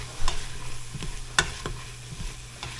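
Onions and other vegetables sauté in a pot for turkey soup, a soft steady sizzle broken by a few sharp scrapes and taps of a spoon stirring, close and fairly quiet.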